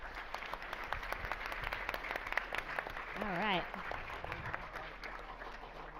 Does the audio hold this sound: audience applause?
yes